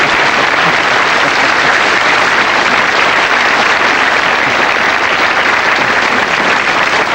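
Loud, sustained applause from a television studio audience fills the whole stretch, a dense steady wash of clapping with no let-up and no voices on top.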